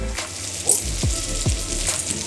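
Fish coated in masala fries in a pan with a steady bright sizzle, punctuated by a few soft knocks and shifting bursts as pieces are moved.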